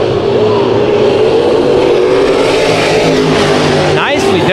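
Modified race car at Bakersfield Speedway, its engine droning steadily and loudly throughout with a sustained revving tone, a commentator talking over it.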